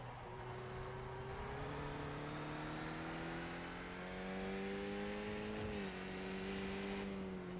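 A Mazda MX-5 race car in iRacing at Brands Hatch, its engine held at full throttle and climbing steadily in pitch, briefly dipping on a shift, then pulling on again with a constant buzzing drone.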